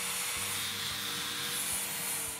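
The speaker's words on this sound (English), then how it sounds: "Using the angle grinder, correct the bearing surface on the sole of the inner and outer claws." An angle grinder trims the sole of a sow's inner and outer claws, giving a steady, close, high-pitched abrasive whir with a low, uneven rumble underneath.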